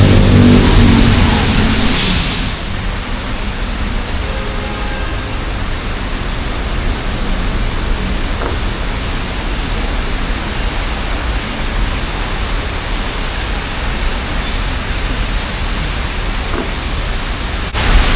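Heavy rain pours down on a city street in Mandaluyong, a loud, steady hiss, with a sharp burst near the start and faint traffic sounds beneath.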